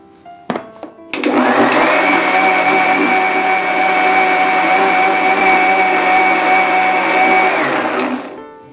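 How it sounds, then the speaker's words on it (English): A kitchen blender grinds soaked urad dal and methi seeds into idli batter, starting after a few clicks and running loud and steady with a whirring motor roar for several seconds before winding down. "I think 1-2 times more blending is required"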